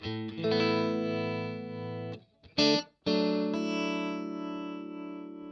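Distorted electric guitar chords ring out through heavy Boss effects with a shimmering chorus, stopping briefly twice before sustaining again, loud and close.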